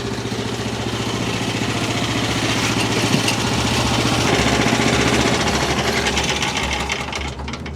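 A Frontier OS23 portable sawmill engine runs steadily and loudly nearby, a continuous droning buzz with a rattly rhythmic texture and no talk.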